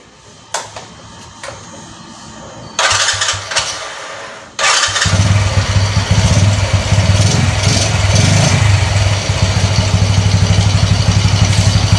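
A Honda motorcycle with an untuned engine is kicked over after a couple of quiet mechanical clicks, catches with a burst and then runs at a steady, close, loud idle with a slightly coarse tone.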